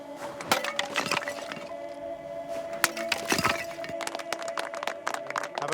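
A clay wine amphora smashed as a ritual sacrifice at an ancient Celtic site gives a few sharp cracking, breaking impacts with clinking debris over a steady background hum, fairly close.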